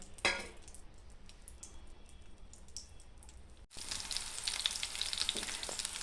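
Green chillies frying in a little oil in a pan, a steady close sizzle after a brief knock, swelling louder and brighter midway, with no talking.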